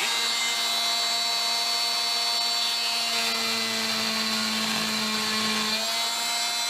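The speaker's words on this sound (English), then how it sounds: "We'll take the Dremel tool" A Dremel rotary tool cuts through a part held in a vise, giving a steady high-pitched whine that shifts pitch slightly as the bit bites in, close and continuous.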